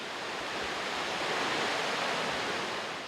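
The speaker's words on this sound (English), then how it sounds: "the Triplet Falls, one of the most spectacular waterfalls in the Great Otway Park" Triplet Falls, a waterfall in the ancient rainforest of Great Otway Park, pours in a steady, dense rushing roar that holds at an even loudness without a break.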